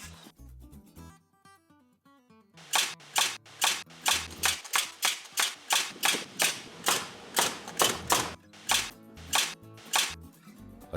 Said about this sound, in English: It is placed into a Joyce hanger and fastened permanently with 3-inch galvanized nails.